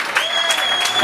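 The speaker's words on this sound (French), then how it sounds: "On fait une bonne main d'applaudissement pour la band, sérieusement, là" A bar crowd claps for a live band, with brisk, loud applause and some tonal sound under it.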